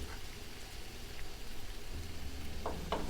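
Shrimp frying in a pan for linguine with arugula, a steady soft sizzle throughout with a few light clinks and stirring scrapes near the end.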